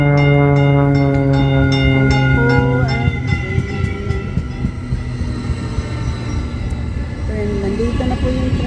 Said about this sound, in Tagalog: Andito na po yung train. So, dito na po yung train, guys. Ayan na po yung train.